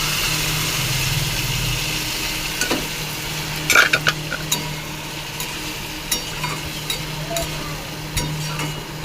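Boiled lentils go into a pan of sizzling masala and are stirred. A steady sizzle and low hum run throughout, with a few sharp scrapes and clinks of the spoon against the pan.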